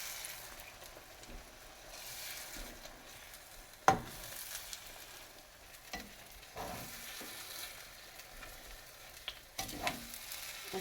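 Potato frittata egg mixture with ham, mushroom and cheese fries in a pan with a steady, soft sizzle, broken by a sharp knock near the middle and a few light scraping touches.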